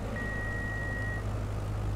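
A steady stall warning beep sounds in a glider in Microsoft Flight Simulator. It is a single sustained tone lasting about a second over a constant low engine-like hum.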